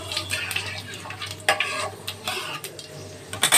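Panch phoron spices tempering in hot oil sizzle and crackle close by, with repeated stirring scrapes and bursts of spitting in an uneven rhythm.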